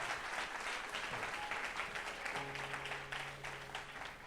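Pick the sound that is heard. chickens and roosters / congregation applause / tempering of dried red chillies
congregation applause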